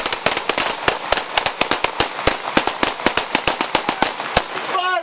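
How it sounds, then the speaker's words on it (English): Police open fire in a rapid volley of loud, sharp gunshots at close range, dozens of cracks in quick succession. A brief voice is heard near the end. "HQ, shots fired by police."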